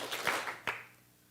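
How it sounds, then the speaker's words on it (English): An audience claps in two short bursts at a youth empowerment event, each a brief ragged cluster of hands, fairly faint and distant with no talking over it. "I want you all to clap twice."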